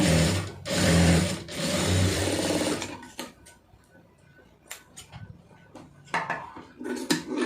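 A sewing machine stitches a blouse, whirring loudly and continuously for a few seconds, then falling to scattered clicks and short bursts of running as fabric is repositioned, with no talking.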